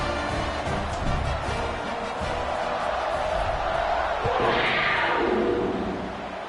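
Crowd at a college football game, likely video game audio, cheering in a broad continuous roar that swells near the end, with a commentator talking over it.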